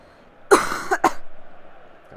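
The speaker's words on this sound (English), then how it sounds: "I don't know why I'm coughing." Two harsh coughs in quick succession, close and fairly loud, with no talking around them, during PES 2018 gameplay.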